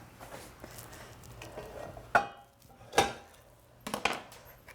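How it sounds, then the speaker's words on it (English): A meat-free dish is stirred and mixed in a pot with a spoon, making several distinct scraping, clacking strokes against the pot over a low sizzling bed, close and moderately loud. "you're just going to stir this up and mix it really good"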